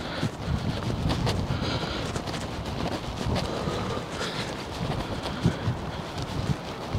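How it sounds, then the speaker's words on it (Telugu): Cold wind blowing outdoors in Iceland, a steady rough buffeting rush close on the microphone with occasional gusty thumps and no talking. "చల్లగా వస్తుంది గాలి"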